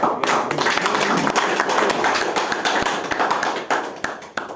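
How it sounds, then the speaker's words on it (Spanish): Audience members at a church talk on the Eucharist clap together, a close, dense run of applause with distinct sharp hand claps standing out throughout. "Vamos a poner un aplauso."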